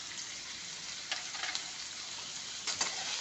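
Onion with salt sautéing in a pan while being cooked down for tomato chutney, giving a steady soft sizzle with a few brief stirring scrapes, close and alone with no voices.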